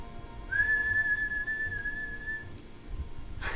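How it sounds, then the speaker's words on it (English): A person with a lip ring whistles one steady, sustained note for about two seconds, clear and close against quiet room background. "I just whistled."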